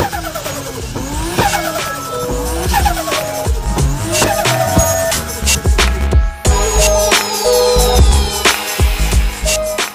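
A turbocharged vehicle engine roars loudly and continuously, revving hard with a rising whine, tire squeal and skidding noise.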